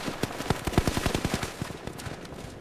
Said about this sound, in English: Then, machine guns opened.